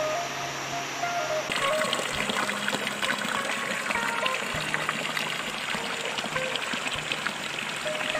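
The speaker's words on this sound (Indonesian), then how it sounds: "Ada air terjun di seberang sana" Steady rushing water fills the scene, a broad continuous roar like a waterfall heard from some distance, with no one speaking.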